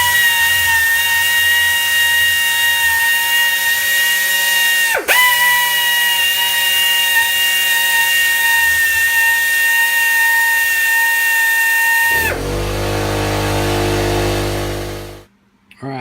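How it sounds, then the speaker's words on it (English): A power tool whines steadily at high speed while polishing a wooden steering wheel, with one brief dip in pitch, then shifts to a lower, rougher tone before winding down and stopping. "I'll probably do a short video, actually showing me polishing it."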